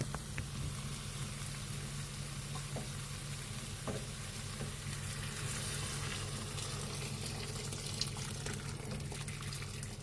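Boiled water pours into a pot of bone broth with a continuous, even rushing and bubbling, close and steady, with faint clinks along the way.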